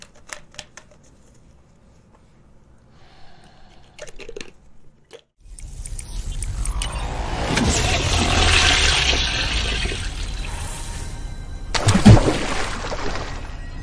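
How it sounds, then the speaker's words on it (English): A toilet flushes with a loud rushing gush of water that builds and sustains for several seconds, followed by a brief gurgling clatter near the end, after quieter scattered clicks. "By flushing this toilet"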